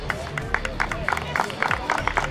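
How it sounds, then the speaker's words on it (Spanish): A crowd at an outdoor awards ceremony for the Citroën Competición Clase B race claps for the sixth-place finisher, scattered hand claps repeating with crowd murmur and voices underneath. "El aplauso para Julio Vera que recibe"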